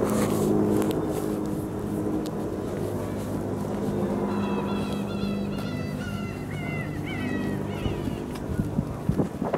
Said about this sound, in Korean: 갈매기 소리가 너무 좋죠.